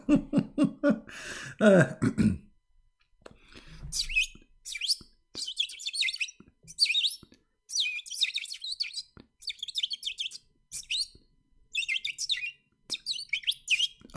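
Small bird calls repeat as bright, high chirps and trills in short bursts across the stretch. A brief spell of speech comes before them, with faint throat noises in between.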